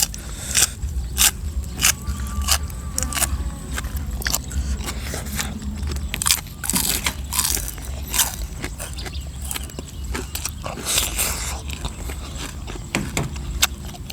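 Crisp, wet crunching and chewing of spicy fresh shrimp salad with lime, close up and steady throughout, with sharp bites and scrapes over low background rumble.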